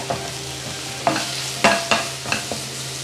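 Crushed ingredients for chicken cutlet sautéed in a pan, with several distinct spatula scrapes and knocks over a low sizzling hiss, close by.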